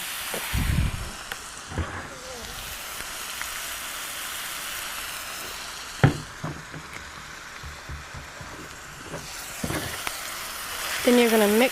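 Sloppy joe mixture with mustard and Worcestershire being mixed in a pan: a steady wet sizzle and hiss with scattered scrapes and clacks of the utensil, a few louder knocks near the end.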